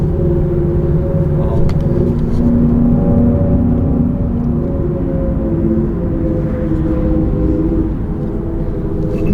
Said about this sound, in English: It's artificial sound. But it's not like a motor sound or like an exhaust sound.